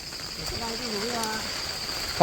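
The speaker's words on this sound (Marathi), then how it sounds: "पुन्हा एकदा पाऊस चालू आहे" Steady rain hisses through the night air, with a thin chirring of insects and a faint voice underneath.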